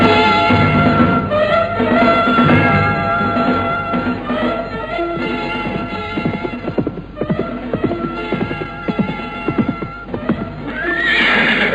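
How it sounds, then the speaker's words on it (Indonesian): A horse with a rider draws near in a radio drama scene, with repeated loud neighing and whinnying over clip-clopping hooves that grow more distinct and rhythmic toward the end. "nampak dari kejauhan seorang penunggang kuda yang mengendarai kudanya makin lama makin dekat"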